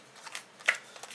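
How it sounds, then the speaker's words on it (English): Playing cards being table shuffled during a game of Dark Gothic, a short papery riffle with a few soft flutters and one sharper snap near the middle, quiet and close. "I'm going to table shuffle real quick"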